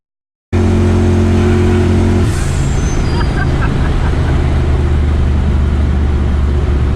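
A twin-turbo 1965 Ford Mustang accelerates under load in third gear, its loud, close engine droning with rising pitch and a turbo whistle, steady and strong after a silent start.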